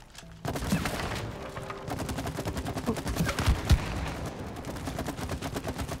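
Rapid gunfire in the co-op video game It Takes Two, a fast, steady stream of sharp shots, near and loud, running almost the whole clip with a heavier thump partway through.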